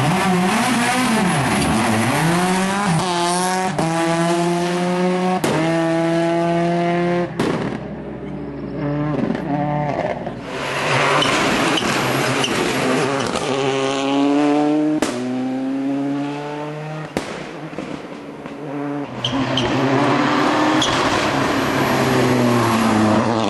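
Rally car at the 2015 Eger Rally in Hungary, engine revving hard through gear changes with rising and falling harmonic sweeps, loud and close, brief dips between shifts and no talk.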